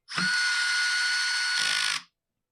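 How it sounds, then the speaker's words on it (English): A powered driver cranking down screws on a Husqvarna 223R brush cutter, one steady high whine lasting about two seconds with a slight change near the end, close and without talk. "So we'll crank these 3 screws down here."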